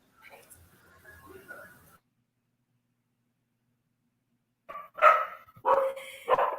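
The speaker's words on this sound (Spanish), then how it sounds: "Mi perra estaba contestando" A female dog barks in a short burst of loud, close yaps near the end, after a stretch of quiet and some faint earlier sounds.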